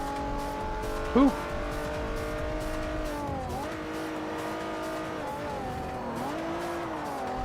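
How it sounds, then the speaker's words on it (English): Race car in Forza Motorsport 4 snapping into oversteer: a steady engine drone shifts pitch through dips and recoveries with a brief squeal near the start, and a single short exclamation is voiced over it. "that was really aggressive snap oversteer"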